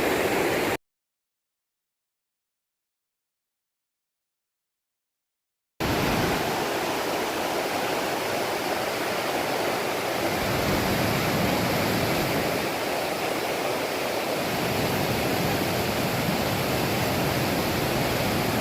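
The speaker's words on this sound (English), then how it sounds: "I've got to cross this creek" Loud, steady rush of flowing creek water fills the scene. A few seconds of total silence break it near the start.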